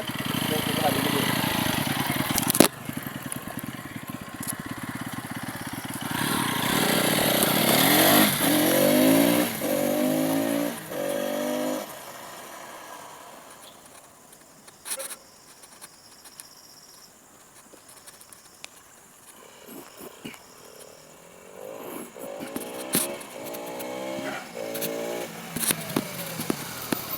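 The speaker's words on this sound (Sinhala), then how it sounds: "දැන් බලන්න ෆ්‍රන්ට් බ්‍රේක් එකෙන් විතරක් කොහොමද බ්‍රේක් එක හදින්නේ." A Bajaj Pulsar NS200 motorcycle with dual-channel ABS ridden and slowed on the front brake alone, its engine droning and rising through gears, then falling away, with steady wind rush and someone speaking over it throughout.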